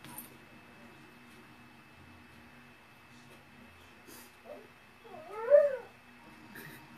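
A cat meows loudly from another room in a house, giving one long wavering call after a few shorter faint sounds, heard at a distance in an otherwise quiet indoor space.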